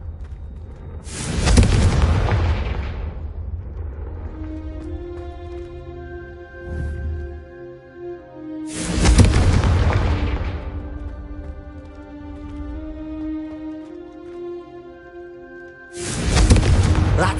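Three loud fiery blasts of the Confringo spell in Hogwarts Legacy, evenly spaced with a booming low rumble, each fading under a lingering musical score and ambient hum.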